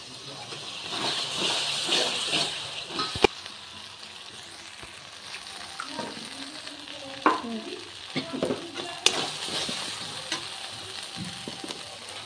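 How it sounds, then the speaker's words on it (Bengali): Masala spices fry and sizzle in a pan after a splash of water for aloo dum, with a steady hiss, a few sharp knocks and clatters, and intermittent stirring scrapes, close and with no talk. "মশলা ভালো করে কষানোর জন্য দিয়ে দিচ্ছি একটু জল।"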